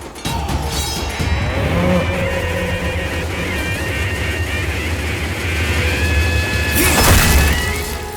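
A buffalo brought for sacrifice at a village ritual lows in a long, drawn-out moan over crowd noise, with a sharp sound near the end.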